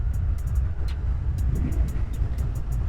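A Honda Rebel 125 motorcycle runs with its choke turned off, a steady low engine rumble mixed with road and wind noise while riding, continuous and fairly even, with faint ticking clicks on top.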